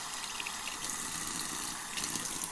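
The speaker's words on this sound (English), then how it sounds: "hot water on this and let it set a second." Hot water poured from a tap onto a brush, a steady close gushing stream of liquid running without pause, with no talking.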